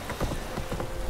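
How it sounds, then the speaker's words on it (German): Horse hooves clip-clop at a trot in The Witcher 3, a quick run of close, muffled thuds over a rainy background. "Das Pferd."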